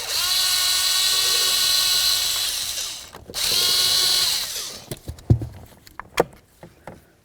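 A power tool whirs loudly in two sustained runs, removing a bolt on the ignition switch mount of a Ford F-250 pickup, then gives way to scattered clicks and knocks of metal being handled.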